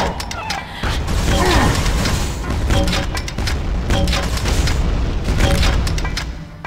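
Rocket launcher blasts and nail gun fire in Quake II 64, heavy booming explosions and rapid sharp shots overlapping loudly in quick succession.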